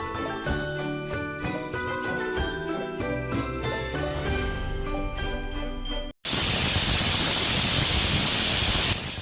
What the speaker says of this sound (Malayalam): നമ്മുടെ കുക്കർ രണ്ടാമത്തെ വിസിലടിച്ചിരിക്കുകയാണ്.